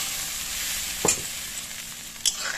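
Spice paste frying on a low gas flame with a splash of hot water, for a rohu fish curry with okra, gives a steady low sizzle with two brief louder stirring scrapes, close by and with no voices.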